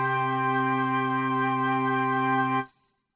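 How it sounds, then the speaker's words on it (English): A chord of flutes, a synthesized demonstration tone for a digital filter, holds steady and bright at even volume for over two seconds before stopping abruptly into silence, with no voices. "Here is the sound of a chord of flutes."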